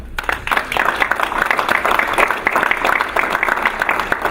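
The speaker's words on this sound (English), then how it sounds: "I think that deserves a round of applause." Attendees at a Board of Education meeting break into a round of applause, a full, even patter of many hands that starts quickly and carries on steadily.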